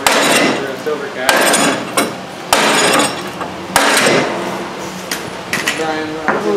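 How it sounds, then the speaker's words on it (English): Sharp metallic hammer blows strike a rear wheel bearing on a 2005 Ford Explorer in a repair shop, about five loud irregular hits with ringing between them, while people talk in the background. "I can swing the hammer if you want."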